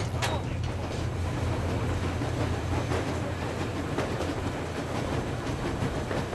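A train rolls along the rails in the Metro Exodus video game: a steady, loud mechanical rumble with faint creaks and rhythmic clatter that runs unbroken throughout.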